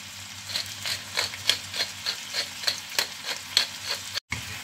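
Seasoned courgettes sizzle in a pan under a steady hiss while a utensil stirs them in a regular rhythm of about a dozen scraping strokes, close and clear, with a brief cut near the end.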